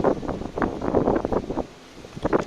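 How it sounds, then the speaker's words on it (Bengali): Gusts of strong, cold wind buffet and rumble against the microphone in uneven bursts, easing briefly before surging again, during a storm with lightning. "আপনারা শুনতেই পাচ্ছেন বাতাসের শব্দ"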